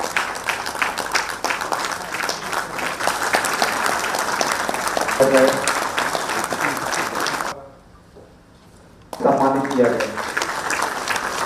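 Hall audience of the Jharkhand Administrative Service Association applauding loudly for the Chief Minister; continuous clapping runs under someone speaking into a microphone, drops away for a moment, then returns with his voice.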